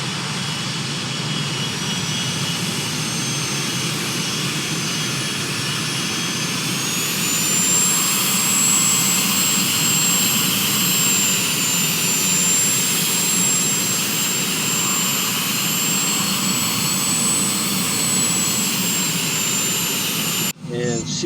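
Jet airliner engines whine and roar steadily as the plane taxis out from the runway at Victoria, a loud continuous hum with a high tonal whistle rising partway through, close and unbroken.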